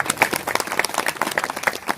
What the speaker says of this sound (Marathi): सर्वांसाठी एकदा टाळी वाजवा.